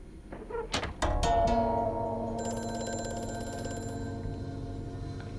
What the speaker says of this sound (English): Cue the creepy telephone.